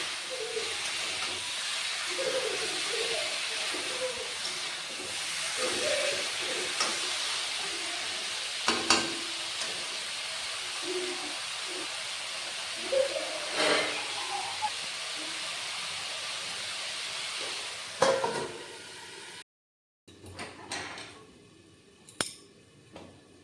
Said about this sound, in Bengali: ঝিঙের সাথে মশলা ভালো করে কষে একটু ঢাকা দিয়ে দেবো